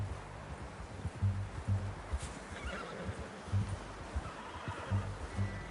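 Horse in Red Dead Redemption 2 whinnies and snorts amid steady clip-clop of hooves over a rustling outdoor game ambience, with repeated low hoof thuds throughout.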